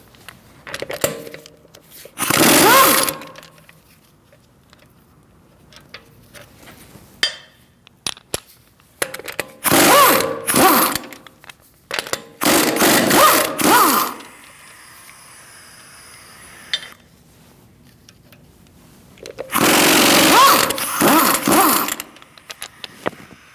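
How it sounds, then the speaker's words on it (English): Bursts of a power impact tool on a 17mm socket, loosening the front wheel lug bolts of a 2008-2014 Mercedes-Benz C300, four loud rattling runs separated by quieter clanks and pauses. "Using a 17mm socket, we're going to remove our wheel."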